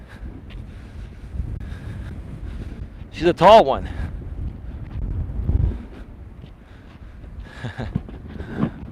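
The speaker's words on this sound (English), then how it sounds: "Wow, man, it is windy today." Low, rumbling wind buffets the microphone throughout, with someone talking over it.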